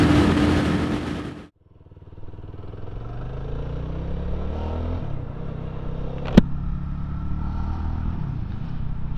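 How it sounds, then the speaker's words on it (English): A small 350cc Euro 5 Plus motorcycle engine revs and pulls away, its exhaust a steady, slightly flatulent drone rising in pitch, with a sharp click partway through. "Got a typical sort of farty sound that you expect from a Euro 5 Plus bike that's a 350."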